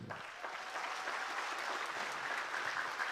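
A church congregation at an evangelical campaign gathering applauds warmly, a steady, fairly distant wash of clapping from many hands that holds for several seconds without talk.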